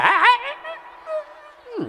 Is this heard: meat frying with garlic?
no